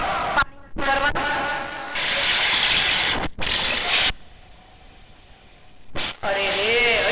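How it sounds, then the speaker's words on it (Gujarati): Water runs steadily from a bathroom tap left on, a broad rushing gush broken by brief pauses and bursts of voices talking, with a quieter stretch midway. "આ બાથરૂમમાં ચકલી ચાલુ રાખી છે ને પાણી મેળવી જાય છે."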